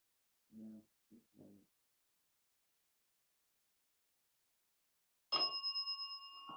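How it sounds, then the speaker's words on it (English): A single bell strikes with a bright, ringing tone that lingers and slowly fades, coming after a long stretch of near silence broken only by a few soft, brief murmurs at the start. "Bell."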